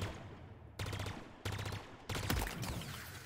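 A plasma energy weapon in Halo Infinite fires bursts of tracking plasma balls: three sharp, crackling volleys start about half a second apart, the last trailing on longest, with no talking.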